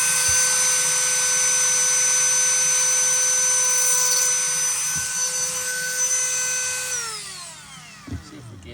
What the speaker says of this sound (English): I'm gonna drill another hole.